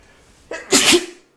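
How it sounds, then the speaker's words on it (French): A single loud, close sneeze: a quick sharp intake of breath, then a bright explosive burst that trails off. "J'ai envie d'éternuer très fort"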